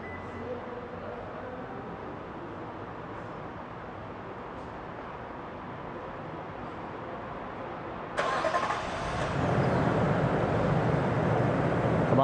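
A 2020 Toyota Land Cruiser GXR Grand Touring with a six-speed automatic cranks to life by remote start after a quiet stretch, then settles into a steady, fairly loud idle that holds to the end.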